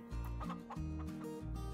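Chickens in the Farming Simulator 22 video game cluck in close, repeated bursts of about three or four calls, loud and clear with no talking over them.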